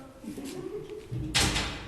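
An old, unlockable door at the Missouri State Penitentiary swings with a drawn-out, groaning creak, ending in a louder scrape or bump near the close, heard fairly close by.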